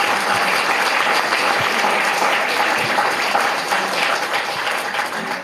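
An audience at a book presentation for a political reform book applauds in a sustained, dense burst of clapping that stays steady and fades slightly toward the end.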